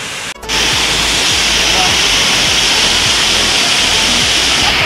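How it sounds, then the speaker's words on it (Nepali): Jogi Khola waterfall in rainy season, a loud, dense, continuous roar of falling water close by that swells in after a brief dip at the start. "यो चाहिँ हो तपाईँहरूको वाटरफल्स है जोगी खोलाको"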